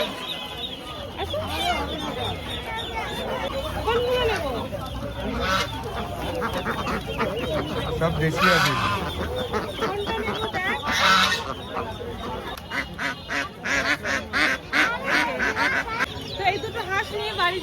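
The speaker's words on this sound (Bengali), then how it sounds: "আসুন দেখাই কি কি হাঁস আছে" Native ducks at a village market, quacking and honking close by in a busy, continuous stream, mixed with other fowl and heard under market chatter and nearby voices.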